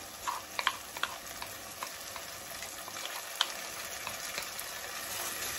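Fried tomato paste sizzling in a pan as a catfish-and-spinach dish is cooked, a steady crackling fry with a few sharp clicks and scrapes of stirring early on, close and moderately loud.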